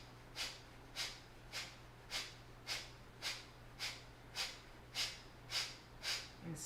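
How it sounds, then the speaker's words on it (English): Kapalabhati yoga breathing, a steady series of about twelve sharp, forceful nasal exhales at a quick even rhythm, close and soft, with no talk. "forceful exhales."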